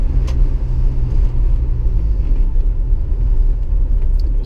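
A Jeep Wrangler SE rumbles along while driving, with a low, steady engine drone and road noise from inside the cabin, and no voices.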